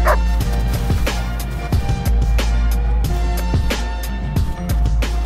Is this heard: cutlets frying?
no